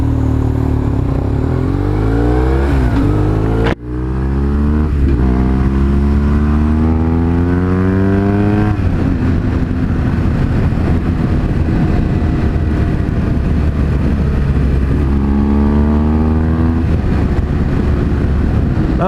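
A motorcycle rides over a bumpy Maryland backcountry road, its engine droning loud and close throughout, with pitch rising and falling as it revs and shifts, plus wind and road rumble and one brief dropout.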